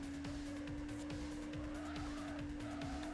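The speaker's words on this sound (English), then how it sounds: "This is a Venturi 400 GT." Venturi 400 GT in the racing video game Test Drive 6, a steady engine drone with a constant tonal whine and repeated tire squeals, fairly faint overall with no talk.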